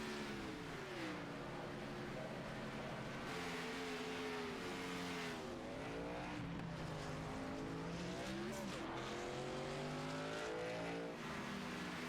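Race cars pull away from pit lane at Kansas during green flag pit stops, engines rising and falling in pitch as they accelerate, with a sustained whine and faint tire squeal, no talk heard.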